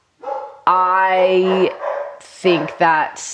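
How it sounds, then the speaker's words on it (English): Several pet dogs bark at home as family members arrive, sounding close and loud in short bursts mixed with some drawn-out yelps, while a person speaks over them. "Sorry for my dogs."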